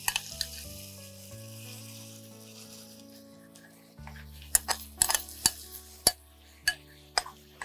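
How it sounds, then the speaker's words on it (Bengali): Mutton pieces and onions sizzle steadily in a pan for a mutton curry, with a low hiss running throughout and sharp metallic clinks and scrapes of a spoon stirring against the pan in the later half. "কেননা মাংসটা ভাজতে কষতে কষতে পেঁয়াজটা আরো ভাজা হয়ে যাবে"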